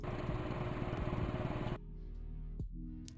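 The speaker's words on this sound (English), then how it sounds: "Tank engine sounds" Tank engine sound effect for a game jam project: a loud, rough, pulsing engine rumble that suddenly cuts to a quieter, steady low drone with a brief click.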